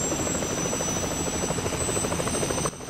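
Helicopter in Resident Evil: The Umbrella Chronicles, a steady loud rotor chop running continuously at close range before cutting off abruptly near the end.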